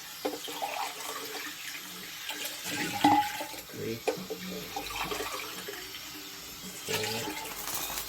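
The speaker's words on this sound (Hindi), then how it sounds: "अब हम इसमें पानी ऐड करेंगे" Glasses of water are poured into a pot for mutton yakhni pulao, a gushing, splashing flow that comes and goes in bursts while a person talks over it.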